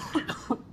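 Three quick, close coughs from a man with a tickle in his throat, short and evenly spaced, with no talk.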